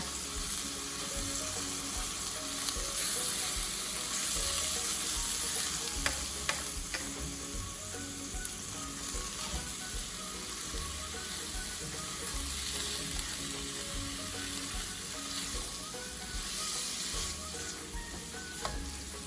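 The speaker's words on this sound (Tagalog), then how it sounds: "Pwede na nating haluin yung ampalaya." Bitter gourd sautéing with shrimp and egg in a pan, a steady loud sizzle and frying hiss with occasional stirring scrapes throughout, close by and with no talk.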